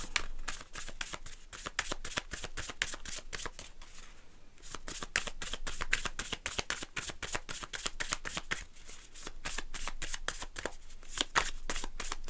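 Tarot cards being shuffled by hand, a long run of rapid crisp riffling flutters repeating steadily at close range, quiet and without talk.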